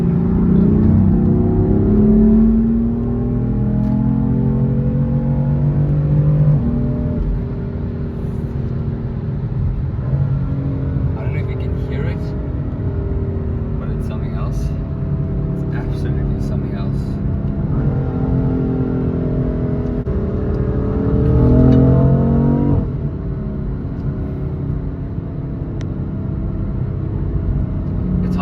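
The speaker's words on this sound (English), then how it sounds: "now I'm changing with the paddles" BMW M4 engine heard from inside the car, revving through repeated rising and falling sweeps as gears change with the paddles, with loud blips on the downshifts and a steady rumble between them.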